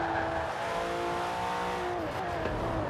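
Racing car engine in Forza Horizon 4 revving and dropping through a downshift, with steady loud engine tones that fall in pitch near the end, continuous over the full stretch without talk.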